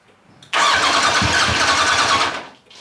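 A 1990 Kawasaki ZZR1100 motorcycle cranks and fires up, its engine catching abruptly and settling into a loud, steady mid-pitched idle up close before quickly cutting off, with no talk over it.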